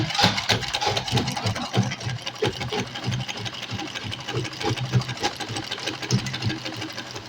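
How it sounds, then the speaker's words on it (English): A sewing machine stitches fabric near the corner of a seam, a close, rapid mechanical chatter that runs in uneven bursts as the speed changes, with no talking. "Put the pressure foot down and continue sewing."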